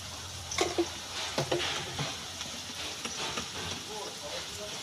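Green chili, onion and garlic fry in a pan with a steady, close sizzle and hiss throughout, broken by scraping and clicking stirring strokes.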